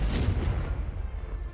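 A Confringo explosive spell goes off in a Hogwarts video game as a deep booming blast with a low rumbling tail that fades out over about a second.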